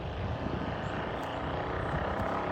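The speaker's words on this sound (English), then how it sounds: "Excuse the motorcycle noise." Steady, droning engine noise from a passing motorcycle, a continuous low rumble with no voices.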